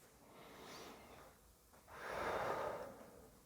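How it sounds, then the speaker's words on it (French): A person breathing deeply, one slow inhale followed by a longer, louder exhale, close and alone in a quiet room. "je me mets plus droit et j'inspire, j'expire"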